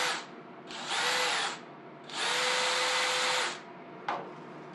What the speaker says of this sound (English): Once these handle scales are all finished, they have to be carefully cut out so you don't rip chunks of the material from the bottom of the scales.